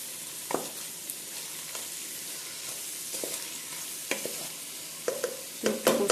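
Pointed gourd curry sautéing in a pan with a steady sizzle and intermittent scraping strokes of a stirring spoon, growing busier and louder toward the end.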